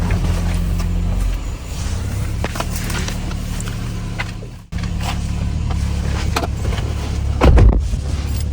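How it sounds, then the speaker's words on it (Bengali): A Toyota Prius Alpha seven-seat hybrid with 15,000 km on it is driven along. A steady low cabin rumble and road hum play throughout, with a brief dip partway and a soft thump near the end. "আচ্ছা, তাহলে এখন আমরা ড্রাইভে চলে যাই"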